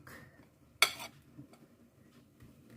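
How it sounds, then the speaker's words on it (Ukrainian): A baking mould filled with chicken-liver soufflé mixture is tapped on a kitchen surface to settle it, giving one sharp clattering knock and a few faint softer taps in a quiet room. "Формочку побить, щоб воно вляглося, втряслося."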